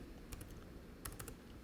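Two quick bursts of computer keyboard typing, a few key clicks each separated by a pause, close and fairly quiet over a faint room hum.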